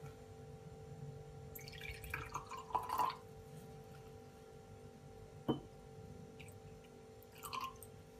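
Rose water trickles and drips into a bowl of dough ingredients for ma'amoul, with a few soft splashes and drips scattered over quiet kitchen background.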